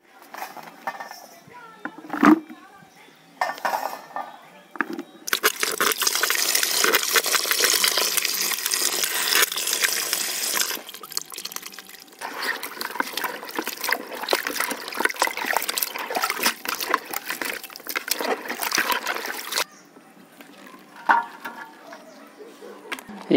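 Fiddlehead ferns are washed under running water, a steady splashing stream for about fifteen seconds, with short clatters and drips before and after.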